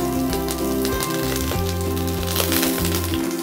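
Lemongrass and curry leaves frying in a pan make a steady, close crackling sizzle, partly masked by background music.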